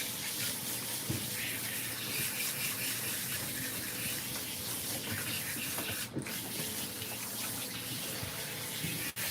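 Water runs steadily from a tap or sprayer, rinsing a Ragdoll cat during a grooming bath, a continuous close gushing hiss with a couple of brief knocks and no talking.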